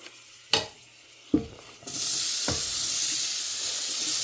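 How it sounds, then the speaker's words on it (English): Apples land in a buttered skillet: a few sharp clacks come first, then a loud, steady sizzling hiss takes over and holds. "So now I'm going to add my apples"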